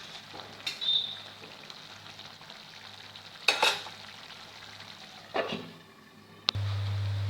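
Chicken biryani being stirred in a pot as its cooking water dries off, with a steady low sizzle, a few scraping stirs, and a sharp clatter near the end followed by a loud steady hum.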